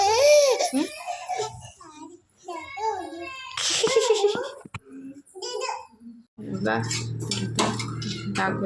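A small child cries in bursts in a home kitchen where appe are being cooked, with dishes and utensils clattering nearby and other voices talking in between.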